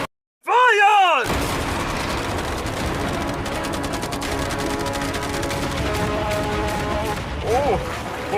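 Dense, rapid machine gun bursts and heavy cannon fire erupt in a video game battle defending a yacht, a continuous loud barrage with a brief whooshing sweep at the start and voices under the noise.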